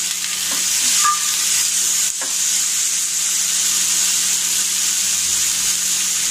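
Onions and tomatoes fry in a pan for a cashew curry, giving off a steady close sizzle, with a few brief spoon scrapes and clicks near the start.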